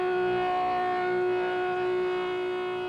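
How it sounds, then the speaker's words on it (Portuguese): A civil-defense-style siren in Vizela holds a loud, steady tone that slowly swells and eases, sounding alone without voices. "O toque da sirene vai ser para sempre uma recordação muito especial para Vizela."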